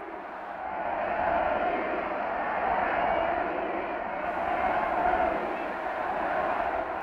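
A crowd of some 45,000 cheers at the Bonn Marktplatz during John F. Kennedy's 1963 visit, a broad, sustained roar of many voices heard from a distance on old recording, with no break for the whole stretch.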